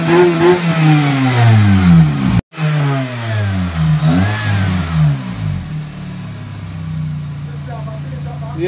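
A motorcycle engine revs hard after a kick start, rising and falling in quick bursts, then cuts out briefly before revving up again and settling toward a rougher idle.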